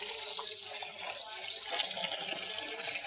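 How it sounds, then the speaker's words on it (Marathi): Water runs over wild vegetables (fig-fruit greens) as they are rinsed, a continuous close splashing stream with faint talk in the background. "हे अजून एकदा स्वच्छ पाण्याने धुवून घ्यायचंय आपल्याला"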